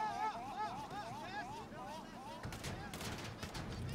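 Rapid gunfire bursts crackle in a video game, dense volleys under chattering voices, with brief lulls between flurries of shots.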